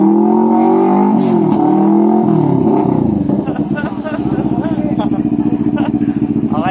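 NK400 motorcycle fitted with a Bomba Racing exhaust, revving close by in loud, throaty bursts that settle into a rough, pulsing idle.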